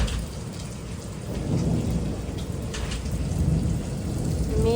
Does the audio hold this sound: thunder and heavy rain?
yes